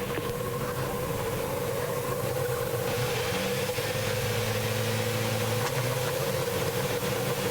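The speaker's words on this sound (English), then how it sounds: "Drivers, start your engines." Several IndyCar race car engines fire up and settle into a steady, loud idle on a speedway grid at a Kentucky oval race, a dense continuous mechanical drone with overlapping engine hums and no talk.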